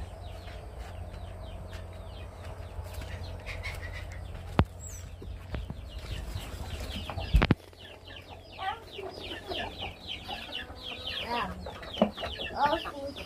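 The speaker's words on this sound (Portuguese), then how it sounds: "Agora vamos soltar as galinhas." Hens on a small farm cluck in short, scattered calls as they are let out in the morning, with birds chirping around them and a few sharp knocks nearby.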